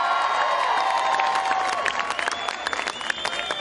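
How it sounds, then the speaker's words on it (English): At a Christian protest rally in Melbourne, Australia, a large outdoor crowd applauds and cheers in a dense, continuous roar that swells and then begins to thin out toward the end. "what a great crowd we have here today"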